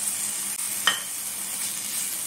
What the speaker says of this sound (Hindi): जस्ट हल्का सा 2 सेकेंड मीडियम फ्लेम में फ्राई करना है, जस्ट सोते करना है, बस 2 सेकंड चलाना है।